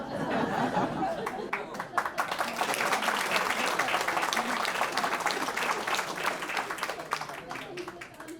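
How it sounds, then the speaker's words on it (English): A round of applause rises right away and holds steady for about eight seconds, dense and even, with a few chuckles mixed in before it thins near the end. "I'll give you a round of applause"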